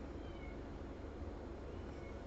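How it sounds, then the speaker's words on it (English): A cat meows faintly in the background of a room, a brief quiet cry almost buried under steady low noise. "if you hear a cat in the background"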